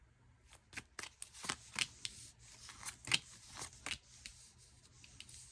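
Tarot cards being shuffled by hand, a quick run of crisp riffling snaps and soft slides in uneven bursts, close and fairly quiet with no talking.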